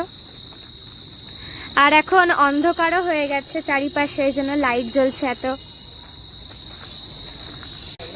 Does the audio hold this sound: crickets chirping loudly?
yes